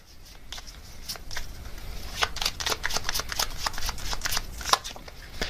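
Tarot cards riffled and shuffled by hand in a string of crisp papery flicks and slaps, close and fairly soft, with no speech over them.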